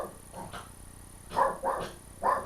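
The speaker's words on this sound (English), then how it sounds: "now we got a barking puppy." A puppy barks and yips in three or four quick, moderately loud bursts, heard alone against a faint steady background hum.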